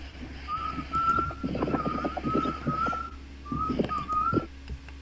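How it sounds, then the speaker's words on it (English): A man whistles a short repeated tune over a jail phone call, several steady notes in phrases, heard through a muffled, noisy line with low hum. "this is the part I was talking about before where he whistles"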